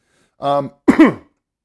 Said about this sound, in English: pardon my coughing there